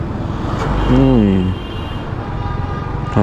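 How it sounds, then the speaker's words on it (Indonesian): Heavy road traffic crawling in a jam with many trucks, a steady broadband rumble of engines close by, with people talking over it inside a vehicle. "Lagi macet memang ya, banyak kali truk."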